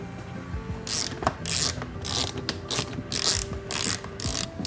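A ratchet spins out small 8mm screws from a panel on a 2017 BMW i3: quick bursts of sharp clicking in irregular runs, close up with no talking.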